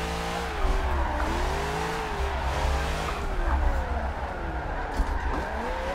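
Corvette-engined drift car in a racing game, driven on a Logitech G920 wheel, its V8 revving and shifting pitch steadily while tires squeal through the slides, loud and continuous throughout.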